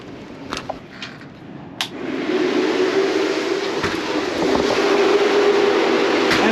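A dust pressurisation fan on a campervan starts up with a click and then hums steadily at close range, a constant whirring drone that holds for several seconds.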